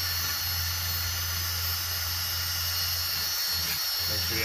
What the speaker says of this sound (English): turn the drill right here, it takes it to a better angle the way the spinning goes.